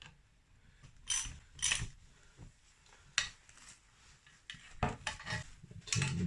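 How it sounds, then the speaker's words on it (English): A bearing puller is tightened on the crankshaft of a Yamaha DT125R motorcycle engine to pull off the main bearing, giving close, irregular metallic clicks, clinks and ratcheting scrapes from the tool and workpiece. "I'm just going to get that old main bearing off the crank with a proper tool because it's still on"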